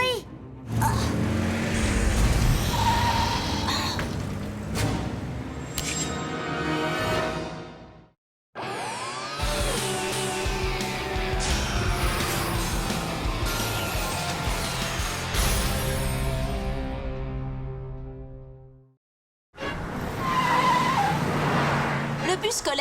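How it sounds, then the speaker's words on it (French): A runaway cartoon school bus full of children careers through busy city traffic, with roaring engines, long tire squeals and whooshing passes, loud and continuous apart from two brief drops to silence, with voices mixed in. "Un bus scolaire plein d'enfants est devenu brusquement incontrôlable."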